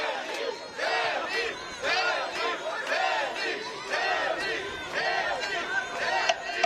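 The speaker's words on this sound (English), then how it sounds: "You hear the shouts coming from the crowd for Denny" A boxing crowd at a professional beach event in Santa Monica shouts and yells for a fighter in repeated loud surges, a dense wall of overlapping voices with chatter between bursts.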